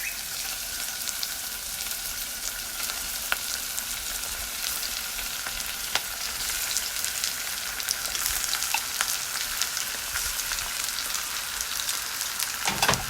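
Pork belly sizzles and fries steadily in a pan for crispy pork sinigang, a continuous close crackle with scattered sharper pops and no talk.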